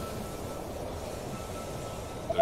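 Train arriving at a station in the strategy video game They Are Billions: a steady low rumble of rolling rail cars at even loudness, ending with a short squeal of wheels or brakes.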